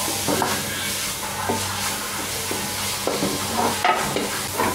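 Crushed ginger and garlic fry with onions in a pan for a Kerala-style fish curry, a steady close sizzle with periodic scraping strokes of a spoon stirring, no voices.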